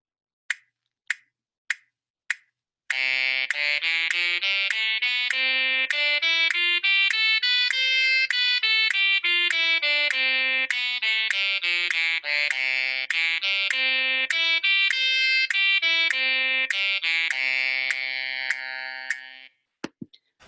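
A tenor instrument runs a fast, clean audition scale up and back down in an unbroken stream of evenly spaced notes, loud and close, after four sharp counting clicks.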